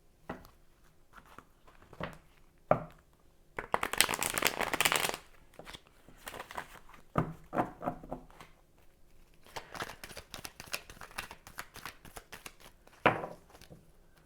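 Tarot cards are shuffled for a love reading in bursts of riffling and sliding, soft and close, with brief pauses and light taps between shuffles in a quiet room.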